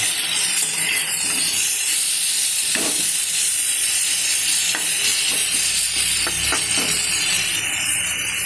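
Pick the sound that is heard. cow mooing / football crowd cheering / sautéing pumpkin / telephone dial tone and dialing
sautéing pumpkin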